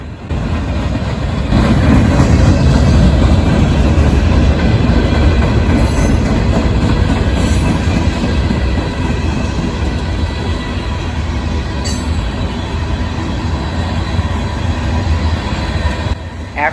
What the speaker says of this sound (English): After the end of the UP-led train passes me here